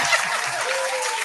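A brief burst of dense applause from a small group during a podcast recording, loud and continuous for about a second.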